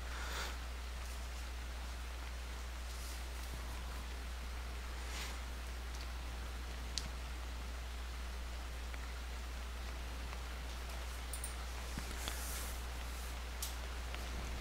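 Rain falls inside a hangar in the video game DayZ, a steady, faint hiss of broadband patter with a few scattered brighter drops, continuous and unbroken, with no voices.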